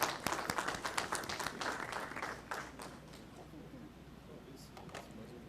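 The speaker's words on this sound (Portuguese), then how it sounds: "a quem peço uma salva de palmas" Applause in the São Paulo city council chamber during a plenary session, a burst of many hands clapping that thins out and fades after a few seconds into quieter room noise, with voices nearby.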